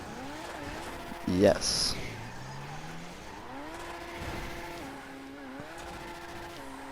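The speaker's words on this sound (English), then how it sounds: "Why is this F1 car being so stupid?" F1 race car in a video game, engine tones rising and shifting as it drives, with a brief sharp tire skid early on and a short spoken word over it.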